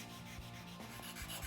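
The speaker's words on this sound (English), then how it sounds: "Hand sanding on it a little bit to try to get the" A knife blade is sanded by hand with steady back-and-forth rubbing strokes, faint and close, with no talking.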